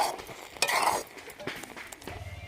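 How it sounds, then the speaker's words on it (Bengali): A spoon stirs fried spices into boiled jujube pickle sweetened with jaggery, making quiet scraping and clinking against the pot with a few soft, uneven knocks and no talking. "মশলাটা কুলের আচারের মধ্যে ভালোভাবে মিশিয়ে দিচ্ছি।"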